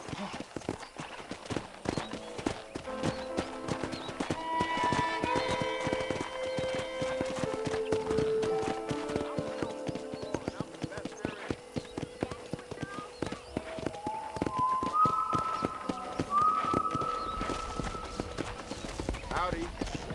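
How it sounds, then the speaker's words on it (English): Hoofbeats of a horse being ridden through a ranch in Red Dead Redemption on PC, a steady clip-clop running under game music and a voice talking throughout, with a brief whinny near the end. "let's see if you can still ride a horse"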